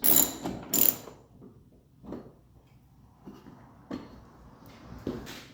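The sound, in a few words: ratchet wrench loosening 13 mm bolt on Honda GL1200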